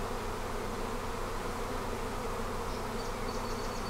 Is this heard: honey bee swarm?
yes